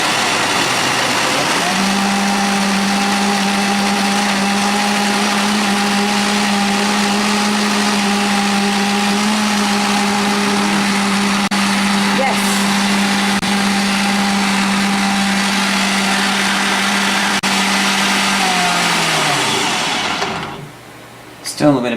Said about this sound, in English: the pepper is just kind of spinning around in there, so I'm going to hopefully change its position, and then maybe it'll get chopped up